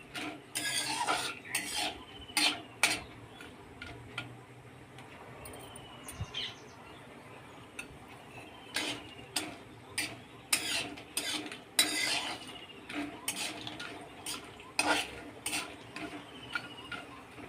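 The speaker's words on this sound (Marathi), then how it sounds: "मध्यम आचेवरती आपल्याला ही वेलची छान भाजून घ्यायची आहे" Whole green cardamom pods dry roasting in a pan over medium heat, stirred with a utensil: irregular scraping clicks and rattles of pods against the metal, close and fairly quiet, with no voice.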